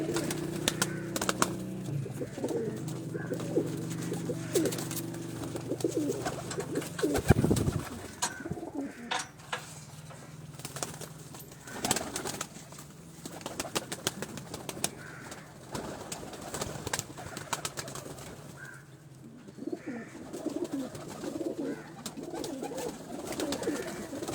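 Gujrat pigeons coo in low, throaty repeated calls, several birds overlapping close by, with occasional rustling and faint background noise.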